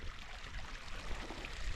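A small moorland stream runs over stones beside a leat walk, giving a steady, soft burbling and trickling wash that stays continuous and fairly faint throughout, with no voices.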